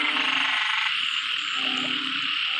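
Frogs croak in a dense, continuous chorus during heavy rain, the steady hiss of downpour mixed with the pulsing calls at night.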